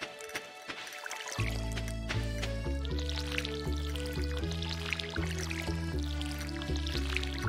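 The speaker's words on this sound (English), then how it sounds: "Fastest watering can waterer ever." A watering can pours over crops in the Stardew Valley video game, a steady stream of splashing, dripping water sounds over a continuous background game music tone.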